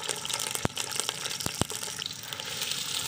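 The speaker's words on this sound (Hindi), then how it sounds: "आधा कप ऑयल जो है हम देगचे में डाल लेते हैं" Half a cup of cooking oil poured into a deg cooking pot, a continuous liquid pour with a few sharp clinks against the pot, close by and with no speech.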